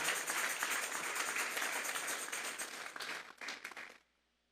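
A church congregation claps together as an offering of praise to God, a dense steady wash of many hands that thins in the last second and then stops.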